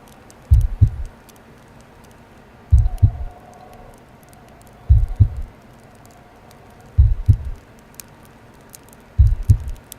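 Heartbeat in the video game Trauma, five slow double thumps evenly spaced about two seconds apart, deep, close and prominent over a faint quiet background.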